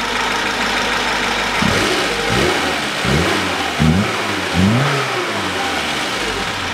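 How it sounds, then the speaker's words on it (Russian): A warmed-up Lada Niva 2131 4x4 engine, just repaired with a new head gasket, idles steadily, with a few short revs rising and falling in a row; no voices. "Двигатель работает, прогрелся"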